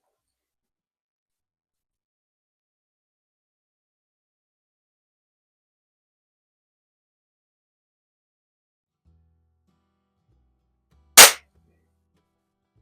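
A single sharp air pistol shot from a Feinwerkbau 65 or Baikal IZH-46M match pistol, a brief close crack breaking long near-silence, preceded by faint low handling sounds.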